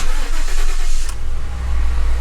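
A Ford F150 with a 5-liter Coyote engine cranks and fires up loudly nearby, then settles into a steady deep idle rumble, with no talking.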